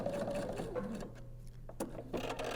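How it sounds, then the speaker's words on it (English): A sewing machine back stitching a seam on a fabric bedside pocket organizer, quiet close whirring bursts of stitching with short pauses between runs, no talk. "And I'm going to back stitch at the bottom."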